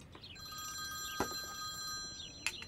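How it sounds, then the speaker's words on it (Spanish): A telephone bell rings faintly in the background, rattling trills sounding twice over a quiet room. "Su teléfono no ha dejado de sonar."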